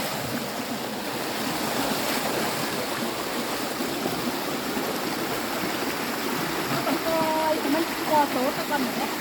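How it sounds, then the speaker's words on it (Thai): Waterfall beside a fishing spot in Huai Phueng district, Thailand, a constant broadband rush of falling water filling the whole clip at moderate loudness, with faint speech-like sounds under it. "เสียงน้ำตกก็มี"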